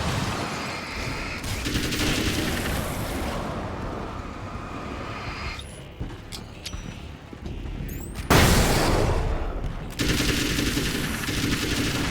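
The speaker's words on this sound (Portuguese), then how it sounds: "Isto é mais uma desculpa para o Alan Wake andar aos tiros" Rapid bursts of automatic gunfire with loud booms and sharp shots in the video game Alan Wake's American Nightmare, dense and continuous, with brief lulls between volleys.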